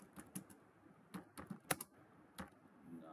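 Computer keyboard typing HTML code for a web page paragraph, with scattered sharp key clicks in irregular bursts, fairly close and clear, no talking over it.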